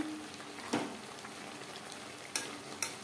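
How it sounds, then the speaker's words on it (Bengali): Meat sautéing in a pan over a high-to-medium flame makes a soft continuous sizzle, with a few sharp scraping taps from stirring. "পাঁচ মিনিট হাই টু মিডিয়াম ফ্লেমে মাংস বেশ ভালো করে কষিয়ে নেওয়া হয়ে গেছে।"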